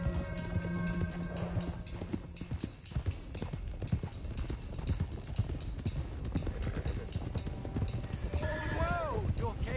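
Horses in a herd gallop in Red Dead Redemption 2, a steady drumming of hooves on dirt with a horse whinnying near the end, and a voice is heard under it.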